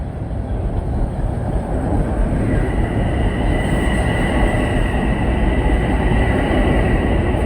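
A diesel commuter train on the Harlem line passes near Harlem–125th Street bound for Grand Central, a loud, steady, close rumble with high metallic wheel squeal rising and holding, no speech.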